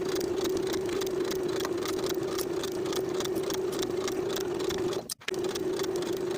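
A sewing machine stitches a 3/8 inch seam around a lined vest's neckline, producing a steady motorized hum with rapid rhythmic ticking that runs continuously and stops briefly near the end.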